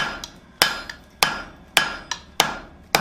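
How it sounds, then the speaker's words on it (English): Hammer blows on hot steel over the horn of an anvil while forging an acanthus leaf hook, five sharp ringing strikes in a steady rhythm with lighter rebound taps between them, close and loud. "hammer straight down on the horn of the anvil"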